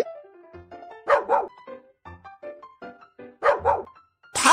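A cartoon puppy in a children's game barks and yips in short bright bursts, several clustered barks repeating over a few seconds, with soft whimpers and musical tones between them.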